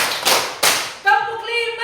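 A group claps in unison during an Indonesian counting clap game at a regional teacher workshop, with two sharp collective bursts followed by a brief spoken call, close and fairly loud.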